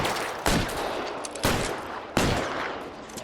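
Three loud, sharp gunshots ring out from the video game L.A. Noire, each a heavy crack followed by a long noisy tail, spaced about a second apart with no speech.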